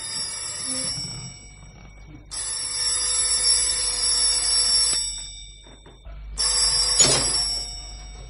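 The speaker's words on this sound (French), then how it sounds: "Le lendemain matin, sonnerie du téléphone." A telephone bell rings in a 1957 French radio mystery drama: three loud, close, bright electric ringing bursts separated by short pauses, with no talking.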